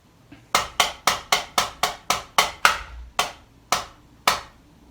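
A crisp snare drum pattern played alone: a steady run of even sharp hits, then a few spaced paradiddle strokes at the end, close and dry.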